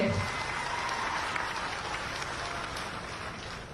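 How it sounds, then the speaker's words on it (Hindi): Crowd applause for the chief minister at a public development event in Burhanpur, a dense, sustained clapping from many hands that stays fairly even before easing slightly, with no clear voices over it. "एक बार जोरदार तालियां आदरणीय शिवराज सिंह"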